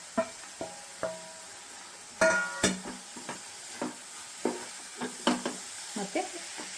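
Roasted dry fruits are stirred into jaggery syrup in a pan for avalakki prasada, a close series of irregular scraping strokes with a faint sizzle underneath.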